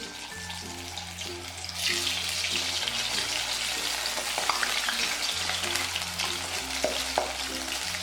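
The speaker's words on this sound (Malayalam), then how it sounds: "ഇനി ഓരോ ഫ്ലവേഴ്സ് ഇതിലിട്ടിട്ട് ഫ്രൈ ചെയ്തെടുക്കാം." Cauliflower florets frying in hot oil in an iron pan, a steady broadband sizzle that swells louder after the first couple of seconds and holds close and continuous under soft background music, with no talking.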